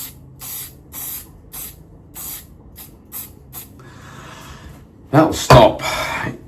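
Hairspray from a pink can misted onto the sideburns in short hissing bursts, a run of about eight quick sprays followed by two louder, closer blasts near the end.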